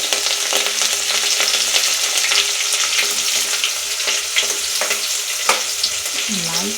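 Green garlic, green chillies and tomatoes sizzle steadily in hot oil over a low gas flame, a continuous close crackle with occasional sharper pops and brief stirring scrapes.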